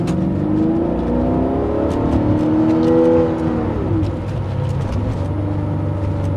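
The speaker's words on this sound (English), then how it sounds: "It's got that cultured European V8 kind of sound." A Porsche 928 V8 engine pulls hard under acceleration while driving, a loud, smooth, rising drone heard from inside the car, easing off briefly before building again.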